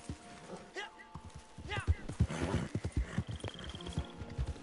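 Hooves clip-clop from a horse in a Wild West video game, a run of quick near hoofbeats under a man's speech, with a faint whinny-like tone partway through.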